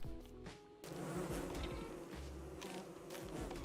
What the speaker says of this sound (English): Come on, bees, wake up.